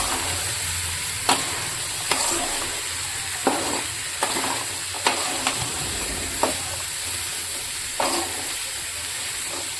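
Oil sizzling in a pan while cooking ghugni, a constant bright hiss with periodic scraping taps of a spatula against the pan, close and without talk.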